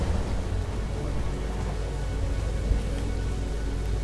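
Steady rain falling in the video game Mass Effect 2, a dense, even hiss with low rumble that holds at the same level for the whole stretch, no voices.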